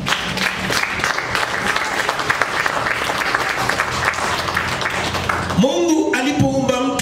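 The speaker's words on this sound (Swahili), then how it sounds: "Tumpigie Mungu wetu makofi." A church congregation claps loudly and steadily through most of the moment, a dense wash of applause that cuts off near the end as a voice starts speaking.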